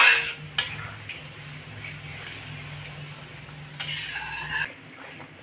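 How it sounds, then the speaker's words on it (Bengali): Kashmiri chicken curry stirred in a pan over a medium gas flame: soft scraping and occasional clinks of a spatula against the pan over a low steady hum, with sharper metallic knocks at the start and near the end. "আবারও 3 থেকে 4 মিনিট নেড়ে নেব। গ্যাসটা ওই মিডিয়াম ফ্লেমে রেখেছি।"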